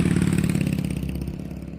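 Motorcycle started up and ridden off toward a gas station, a close, loud engine chugging in a fast rhythmic putter that holds steady and eases slightly as it pulls away, no talk.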